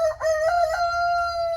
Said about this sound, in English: I can't figure out who was crowing.